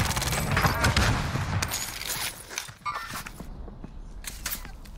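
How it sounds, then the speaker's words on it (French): Gunfire from behind in Warzone, a burst of rapid close shots up front followed by scattered sharper cracks and a brief lull, with faint voices in the background. "ça tire de derrière toi là"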